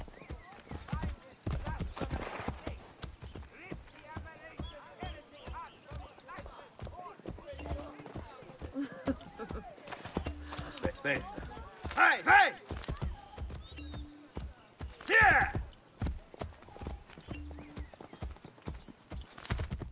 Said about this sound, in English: Just two men on their horses going for a nice horse ride.